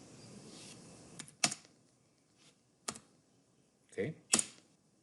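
Several separate keystrokes on a computer keyboard while a distance value is entered for a line in drafting software: sharp, close clicks arrive singly and in a quick pair, with quiet gaps over a faint background hiss.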